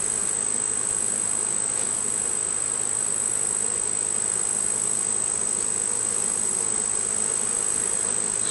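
Honeybees buzz in a dense, steady hum throughout a September hive inspection, close and continuous with no pauses and no voices.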